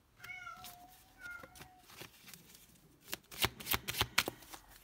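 Tarot cards shuffled by hand, a run of quick crisp riffling flutters growing louder toward the end, close up, with a cat meowing a few times early on and no talk.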